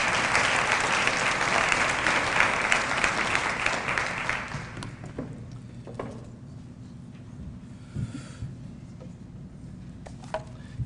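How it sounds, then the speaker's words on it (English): An indoor audience at a child welfare and mental health leadership convening claps loudly and steadily, then the applause fades into scattered claps and room noise. "So please give them a round of applause,"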